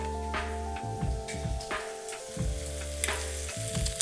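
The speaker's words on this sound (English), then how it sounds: "I'm gonna drop it in at the last minute and kind of just let it saute a little bit" Shrimp and Thai basil sauté in a pan, making a steady frying sizzle under a low continuous hum, with several sharp stirring clicks and scrapes spaced through the sound.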